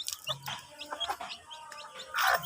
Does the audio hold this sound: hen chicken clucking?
yes